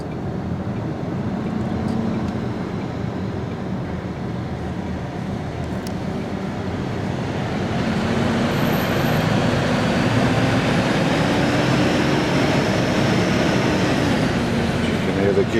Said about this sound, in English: You can hear the gearbox is cold